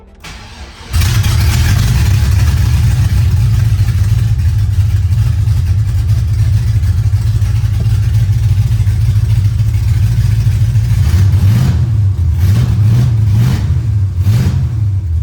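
A car's LS-swapped V8 engine cranks and roars to life, settles into a loud, deep idle with an exhaust leak, then revs several times near the end.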